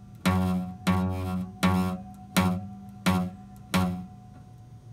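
A guitar note is plucked six times in an even rhythm with the fretting finger not pressed down hard enough, each pluck a close, buzzy, quickly dying tone with no voice over it.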